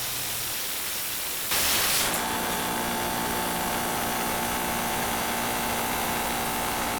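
A Victor Thermal Dynamics plasma cutter cutting metal gives a loud, steady hiss with a faint high whine. A sharp burst of air rushes in near the start, and the hiss continues unbroken for several seconds.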